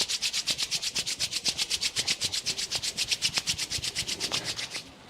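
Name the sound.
rubbing palms together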